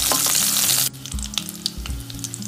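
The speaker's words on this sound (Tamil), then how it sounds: "கருவேப்பிலை போட்டு நல்லா வதக்கி விடுங்க." Curry leaves and onion sautéing in a pan for a spicy medicinal rasam, with a loud hissing sizzle at first that drops to softer crackling and a few stirring clunks.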